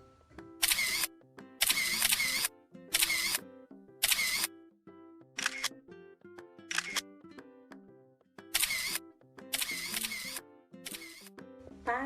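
Camera shutters click in quick repeated bursts, loud and close, with short pauses between the rapid volleys and a faint musical backing underneath.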